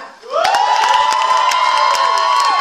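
A live concert crowd erupts in loud cheering and shouting for a performer opening the show, a dense, sustained roar with whoops and scattered claps that swells quickly and holds.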